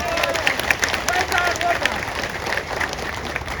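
A rally crowd claps for their MP, a steady patter of many hands filling the space with some murmuring voices underneath, moderately loud and continuous throughout.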